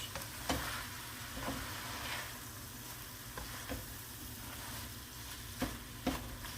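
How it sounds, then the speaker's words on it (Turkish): Grape leaves sautéing in a pan, a continuous close sizzle broken by several sharp utensil scrapes and stirring clicks at irregular intervals. "Yaprağı mutlaka bir bu şekilde biraz kavurun."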